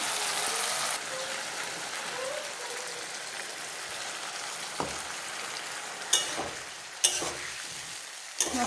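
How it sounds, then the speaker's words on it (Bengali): Spices frying in oil in a pan and being stirred, giving a continuous close sizzle with a few sharp scraping knocks of the utensil near the end and no voices. "মশলাটা দিয়ে ভালো করে আবার ফ্রাই করে নেব।"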